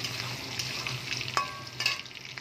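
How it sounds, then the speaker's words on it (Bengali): Potatoes frying in oil in a wok give a close, continuous sizzle, broken by a couple of brief stirring scrapes. "এবার আলুগুলো আমি ভাজতে বসিয়ে দিয়েছি, আলুগুলোও তুলে নেব।"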